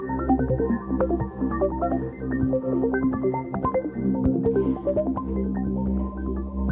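Synthesizer sequences from the Animoog iPad app, with rapid arpeggiated notes stepping up and down over a sustained low drone. The sound is dense, steady and moderately loud, with no talking.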